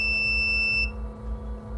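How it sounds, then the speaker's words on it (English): A steady high-pitched electronic buzzer tone from an elevator door in an automation demonstration sounds for under a second, then cuts off, leaving a low hum. "The door of the elevator is open and the buzzer closed."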